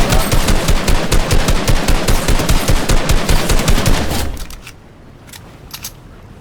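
Rapid, loud submachine gun fire in Fortnite, a fast steady burst of shots for about four seconds, then fading to a few faint clicks and quieter noises.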